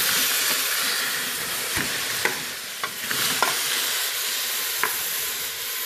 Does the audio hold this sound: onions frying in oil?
yes